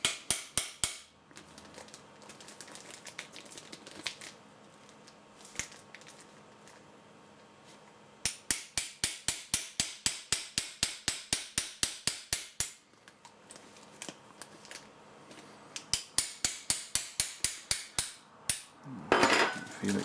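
HK wrench loosening a part on an M4 SOPMOD airsoft rifle, sharp rapid clicking ratchet bursts in several runs separated by pauses, close and fairly quiet, ending with a rustling handling noise.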